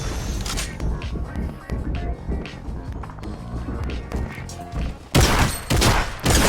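Gunfire in a Fortnite fight: scattered sharp shots crackle through a busy game mix, then a loud, dense burst of blasts erupts near the end.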